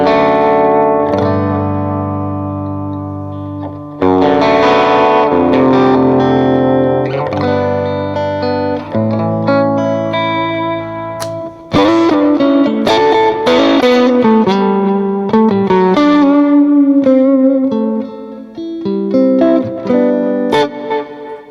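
Electric guitar chords and single notes ringing out through a lush, shimmering modulated reverb, long tails washing between phrases, played alone.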